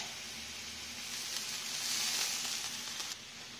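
Wine poured into a hot pan with seasoning sets off a loud, continuous hissing sizzle that swells midway and eases slightly near the end, with no voices.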